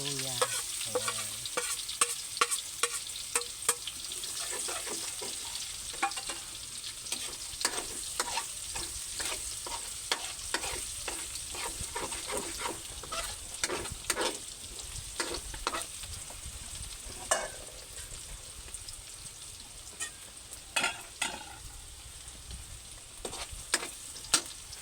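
Onion and ginger sauté in a pan with a soft constant sizzle, punctuated by frequent clinking spatula stirs and scrapes at an irregular rhythm, close and fairly quiet.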